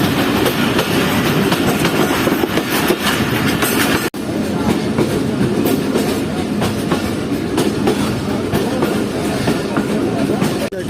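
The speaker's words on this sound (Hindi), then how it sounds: "ट्रेन इस तरह अब ग्रेडियंट पर चढ़ रही है।" Passenger train on the Jand line climbing a gradient near Attock, with steady rolling rumble and rhythmic clickety-clack of wheels on rail, loud and continuous, with a brief dropout near the middle.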